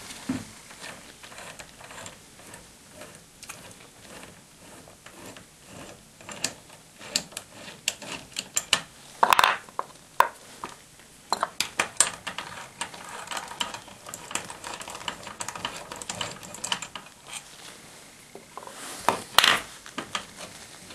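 Parts of a Lee Pro 1000 progressive reloading press being unscrewed during a cleaning, with quiet intermittent metallic clicks and ratcheting taps, scattered sharper clicks around the middle and near the end, close by and without speech.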